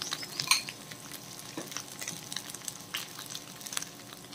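Chicken fries in ghee with cabbage in a pan, giving a soft, steady sizzle broken by the scrape and clatter of stirring, close and fairly quiet, with no talk.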